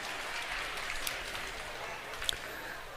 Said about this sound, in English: You already gave him a little round of applause